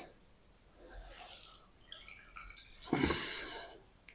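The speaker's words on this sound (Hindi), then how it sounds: "अच्छी तरह आलूओं को मसल लिया है पानी के अंदर और अब ना इस तरीके हम इसका जो पानी है ना सारा निकाल देंगे इस तरीके।" Water is squeezed out of mashed boiled potatoes for aloo bread pakora: soft wet squishing and dribbling, building gradually, with a louder splashy squeeze near the end, close up and moderately quiet.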